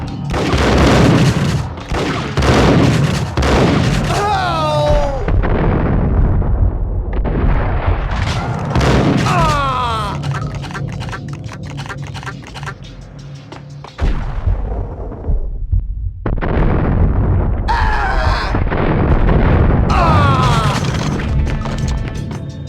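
Gunfire in the PS2 game Max Payne, heavy booming shots and bursts ringing out amid crashes and a dense action soundtrack, with brief game voices between the loud volleys.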